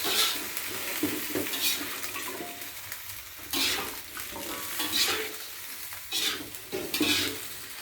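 Mustard greens stir-fried in a hot pan for an Indonesian home-cooked dish: steady sizzling with repeated scraping stirs and occasional clatters of utensil on pan, close and moderately loud, with no talking.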